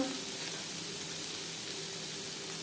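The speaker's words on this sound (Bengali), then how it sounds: "আবারও তেল দিয়েছি দিয়ে দিলাম দুটো পেঁয়াজ যেটা আমি কুচি করে কেটে নিয়েছি" Chopped onions frying in oil in a kadai for a Bengali sarputi fish curry, giving a steady, even sizzle that fills the whole stretch with no talk.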